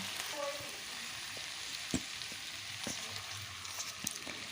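Cauliflower being stirred with sauces in a pan: a soft, steady sizzling hiss with a few sparse clicks and scrapes of the spoon, faint and fairly distant.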